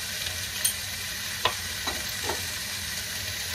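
Vegetables frying in a pan for stir-fried rice: a constant soft sizzle with a few light stirring scrapes and clicks spread across it, close by and with no voices.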